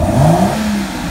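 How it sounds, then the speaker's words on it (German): A classic car engine fed by Weber twin carburetors revs hard, close and loud, its intake roar and rising engine note swelling briefly, then settling back down. "da hört man da die Ansauggeräusche der Doppelvergaser"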